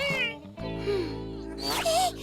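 A cartoon character imitates a cat with drawn-out, wavering meows, voiced mewing sounds in a cartoon soundtrack, loud and close.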